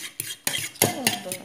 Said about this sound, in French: Donc là, je prends les blancs que j'ai laissés de côté. J'essaie de mélanger un petit peu pour casser